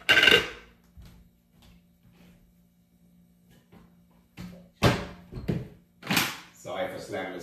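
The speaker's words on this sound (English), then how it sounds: "Sorry for slamming this cabinet." A cabinet door slams shut in a kitchen during morning cleaning of a water machine, a sharp loud bang followed by a few more knocks and clatters, with brief talk nearby.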